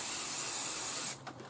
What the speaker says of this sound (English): Then I'm going to spray again